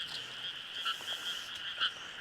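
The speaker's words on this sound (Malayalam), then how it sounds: "ഇടയ്ക്ക് തവളയൊക്കെ കരയുന്നുണ്ട് കേട്ടോ." Frogs croak repeatedly by a dam at night, steady calling with louder pulses at intervals over a constant insect-like drone, no voices.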